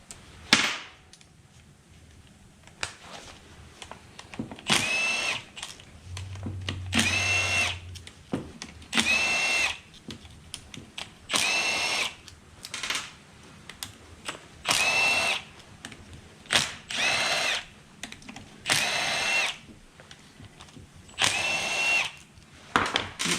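A power drill backs out ten reverse torque bolts from an Eaton Char-Lynn hydraulic motor during a re-seal: about eight short, loud, close whirring bursts separated by brief pauses, with no talking.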